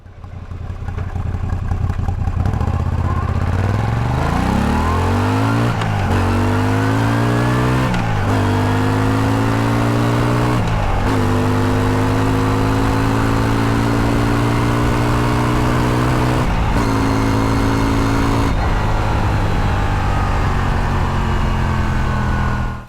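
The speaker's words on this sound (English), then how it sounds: "Exhaust note on the bike is lovely and quiet" A Moto Guzzi V85 motorcycle sits at an uneven idle, then revs up repeatedly in rising swells that settle back down, its exhaust note loud and close throughout.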